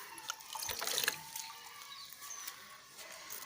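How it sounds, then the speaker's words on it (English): Water being poured into an already full container, a continuous splashing trickle with scattered drips, moderately close and without talk. "Now I am adding some more water to this container."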